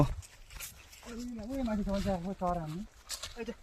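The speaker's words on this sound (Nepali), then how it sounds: "के पो यो कुकुरको नाम अमित होइन" A dog whines in a drawn-out, wavering tone for a couple of seconds, close by, with some background noise.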